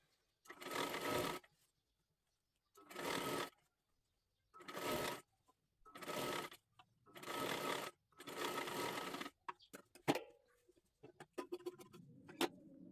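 A sewing machine stitching a child's kathpadar saree, six loud close bursts of rapid whirring, each about a second long and separated by short silences, ending in lighter clicks and fabric handling.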